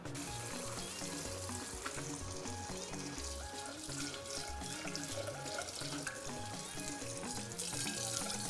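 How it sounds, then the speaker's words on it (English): Boiled rice is poured and drained through a sieve over a sink, a steady rush of running water throughout, heard under faint background music. "I'm going to sieve my rice now"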